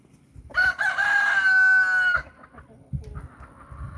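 A rooster crows once, close and loud, a sustained cock-a-doodle-doo lasting about a second and a half, followed by softer clucking and shuffling nearby.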